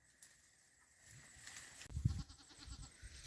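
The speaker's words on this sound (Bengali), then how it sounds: "এইখানে কয়েকটা ছাগল চলে এলো" Goats grazing near a village road bleat faintly, with one or two short bleats standing out over soft outdoor background noise.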